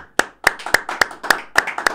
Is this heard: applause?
yes